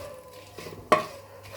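A short scrape-and-clack of a spoon pushing whole spices such as cloves and saffron around a cooking pot, one sharp close hit then a fading rattle over a quiet background.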